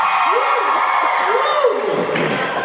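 A crowd of women at a comedy show cheers and whoops loudly, high shrieks rising and falling in two waves over a steady roar of voices.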